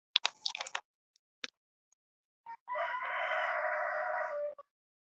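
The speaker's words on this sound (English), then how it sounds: "What's really going on with the rooster?" A rooster crows once in a long, loud, drawn-out call, preceded by a few brief clucks and scattered short sounds in an otherwise quiet setting.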